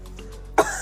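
A single short, sharp cough bursts out near the end after a quiet stretch, close and fairly loud, from a person who has had the cough for more than two weeks.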